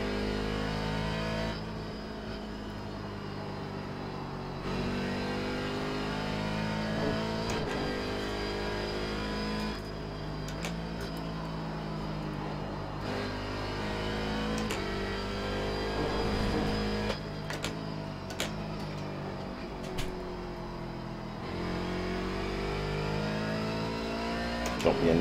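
The engine of a Corvette C7 Daytona Prototype race car in the iRacing simulator drones and revs through a lap at Mosport, rising and falling with gear shifts and braking. A voice talks over it at times.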